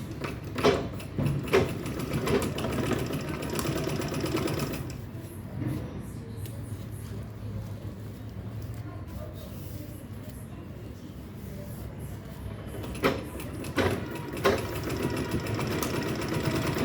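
A sewing machine stitches fabric for a travel bag. It runs in rapid, mechanical bursts that are loud at the start and end, with a softer, steadier hum in between.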